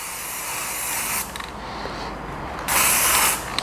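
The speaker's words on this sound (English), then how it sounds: "let's put some spray tag" Close aerosol spray adhesive hisses onto a screen printing pallet in two steady bursts, the second louder, with faint mechanical clicks between.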